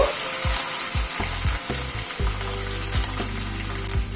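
Onions sauté in a pan with a steady, loud sizzle close by, while a utensil stirs and scrapes them in repeated low knocks throughout.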